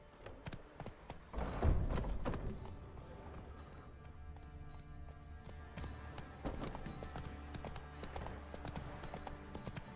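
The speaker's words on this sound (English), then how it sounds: "Whoa there, Roach." Hooves of a horse clip-clopping in the video game Witcher 3, a fairly quiet repeated clopping that rises briefly near the start then continues at a steady pace, alongside faint game ambience.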